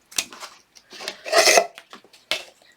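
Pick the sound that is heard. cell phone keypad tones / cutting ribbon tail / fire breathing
cutting ribbon tail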